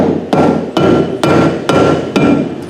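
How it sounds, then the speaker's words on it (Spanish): A rubber mallet taps a shaft part of a motorcycle crankcase during assembly, five evenly spaced dull knocks, loud and close, over a steady low background hum. "podemos utilizar por el momento un martillo de goma"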